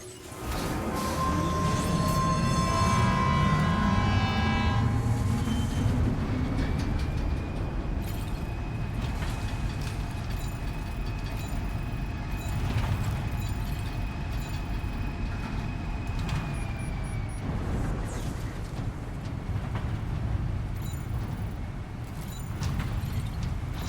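Monorail ride in the video game Death Stranding 2, a steady rumbling rail-vehicle drone with a rising whine and occasional clunks, heard alone over about twenty-four seconds after a brief burst of game music at the start.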